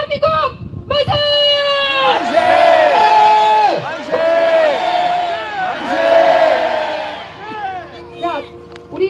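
Large crowd at a Korean rally shouting 'Daehan Minguk manse' in unison, a loud, sustained chorus of many voices rising and falling in several waves, with one voice leading.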